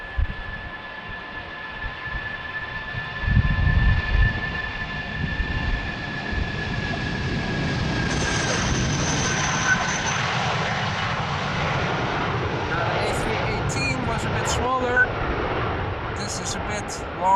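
A jet airliner departs runway 36L at Amsterdam Schiphol on a windy day, its engines swelling into a sustained roar that builds and holds, near and loud, with someone talking briefly at the start.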